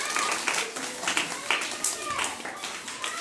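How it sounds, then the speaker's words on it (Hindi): Children in a classroom activity clap loudly together, a dense burst of overlapping claps with some voices mixed in. "चलो एक बार ताली लगाओ जोरदार।"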